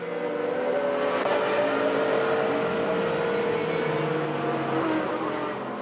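Race cars howl past on the Zolder circuit during a Supercar Challenge race, with a Porsche in the GT class, a dense, continuous roar of several engines close by with shifting pitch.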